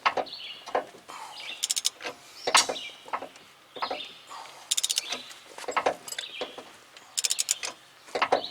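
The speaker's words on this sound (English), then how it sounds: "ball joint press on here. And we're going to start cranking" A ball joint press on a car's upper ball joint is cranked by hand with a ratcheting tool, giving close, repeated bursts of rapid clicking and grinding strokes separated by short pauses.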